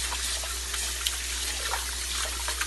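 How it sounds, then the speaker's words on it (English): Tap water runs steadily while rice is washed at a kitchen sink, a continuous close splashing rush with a faint low hum beneath it. "first we're going to wash the rice."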